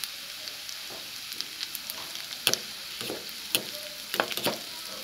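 Poha with turmeric frying in a pan gives a continuous close sizzle, broken by repeated scraping and tapping strokes of a spoon as it is stirred, with no voices.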